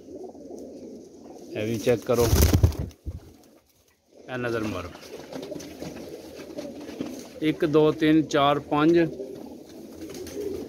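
Pigeons, including a golden pigeon, cooing at a loft in Jhelum, heard in brief bursts between stretches of Punjabi-Urdu talk from a man counting the birds.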